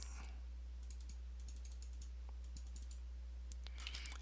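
Computer mouse clicking while working in SketchUp, with sparse quiet clicks in short groups over a constant low electrical hum and no talking.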